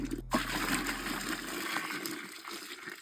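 Water running from a shower in a home bathroom, a continuous broadband hiss with a brief low rumble at the start that fades away.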